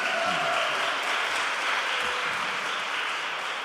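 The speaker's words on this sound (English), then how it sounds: "It's okay, you can clap." Audience applause rings out at the close of an Irish music concert, a steady dense wash of clapping from a crowd heard alone without talk.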